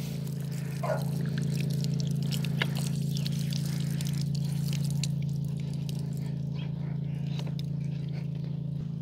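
Water runs steadily from an open pipe during a tap swap on a farm, a continuous pouring rush alone with a strong low hum underneath, close and moderately loud throughout.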